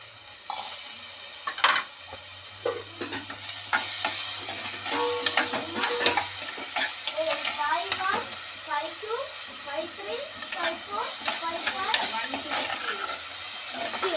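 Onion and tomato sizzle steadily in a frying pan for a Kerala-style fish curry, with repeated scraping and stirring clicks from a spoon against the pan throughout.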